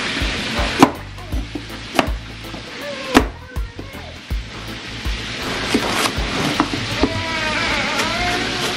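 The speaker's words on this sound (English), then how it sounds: "I like to cut my vegetables" A knife chops onion and carrots on a board for Jamaican escovitch sauce, giving sharp, irregular close-up cuts with short pauses between clusters of strokes and no talking.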